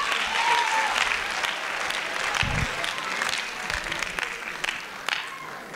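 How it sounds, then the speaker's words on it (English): A school audience at a live mentalism show breaks into applause, a full, lively burst of many hands clapping at once that carries on steadily, with faint crowd murmur mixed in. "Give a round of applause."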